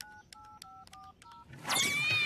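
A telephone keypad dials the school's number, a quick run of about eight short dual-tone beeps, each clear and separate, followed by a burst of louder busy noise.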